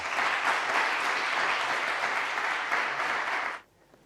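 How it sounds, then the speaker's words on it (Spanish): A live audience gives welcome applause at a Basque literature reading in Spain's National Library: dense, steady clapping from many hands that holds evenly for about three and a half seconds, then cuts off abruptly into near silence. "yo os voy a pedir un aplauso de bienvenida para ellos"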